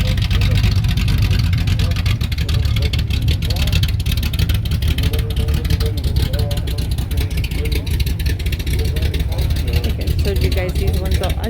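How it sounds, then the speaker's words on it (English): A race car rolls into a Memorial Day classic car show in Bitterroot Valley, its engine a loud, steady low rumble close by that holds throughout, with a person talking over it. "Got a race car pulling in."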